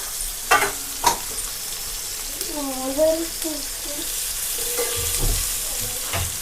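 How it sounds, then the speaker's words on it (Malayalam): Fish sizzles as it fries in coconut oil in a pan, a steady crackle running under a few sharp clatters and a brief voiced sound in the middle. "മീനൊക്കെ വറുക്കുമ്പോഴല്ലേ"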